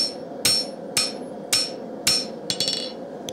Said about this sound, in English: And just hit it with the face of the hammer.